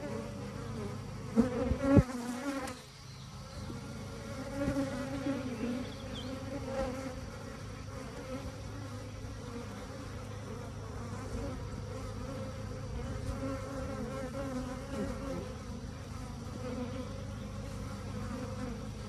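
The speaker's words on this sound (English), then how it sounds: "a lot of worker bees. And they're working for the water" A steady, dense buzzing of many honeybees at water fills the air, constant and close, with a brief knock near the start and no talking.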